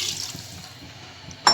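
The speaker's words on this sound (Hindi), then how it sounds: "तो इसमें हम डाल देंगे जी 1 गिलास पानी" Water poured from a glass into a pot of aloo gosht, a soft steady splashing that runs throughout and ends in a brief louder burst.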